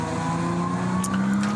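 A Porsche 911 GT3 Cup race car in the Cup 2 class holds a steady, loud engine drone on the Nürburgring Nordschleife endurance circuit, with a brief higher burst near the end.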